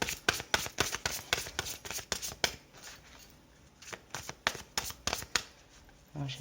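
Tarot cards being shuffled by hand in a rapid run of crisp riffling slaps that thin out into a few sparse flicks, close and fairly quiet with no talking.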